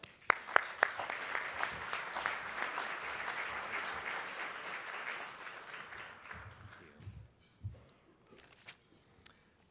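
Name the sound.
luncheon audience applause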